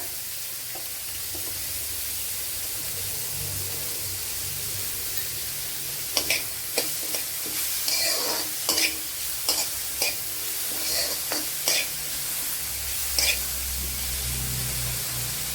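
Chickpea curry masala sautés in oil in a pan with salt, giving a constant close sizzle broken midway by a run of scraping stirs and clinks of a spoon against the pan; no voices.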